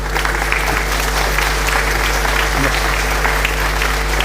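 A crowd applauding loudly and steadily inside a church during a solemn Sunday Mass at St Jean Bosco, a dense continuous clatter of many hands clapping nearby.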